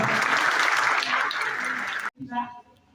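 Audience applause at a district-level Beti Bachao Beti Padhao program for Girl Child Day, a dense loud burst of clapping for about two seconds that cuts off abruptly, followed by brief voices and sounds.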